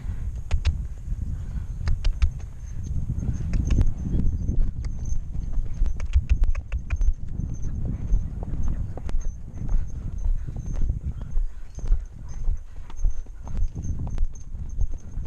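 A horse canters in an indoor arena, its hooves clip-clopping steadily and fairly close on soft footing, with faint wind in the background.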